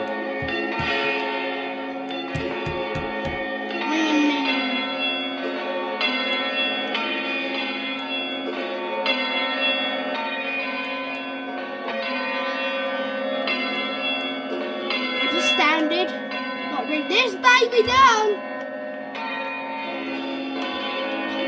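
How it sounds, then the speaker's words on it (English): Several church bells ring together in a dense, overlapping peal at All Saints, Maidstone, sustained and resonant, with a few sharper clangs standing out toward the end. "why are they ringing all the bells?"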